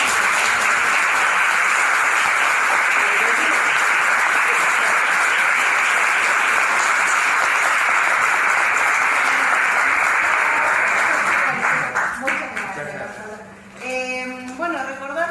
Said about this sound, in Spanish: ¿Qué les parece un gran aplauso para...